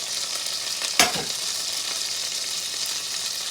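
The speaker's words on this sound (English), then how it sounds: "I hear the sizzling, which I like hearing" Lemon and celery chicken sizzles steadily in a frying pan, a constant crackling hiss with a brief clatter or stir near the start.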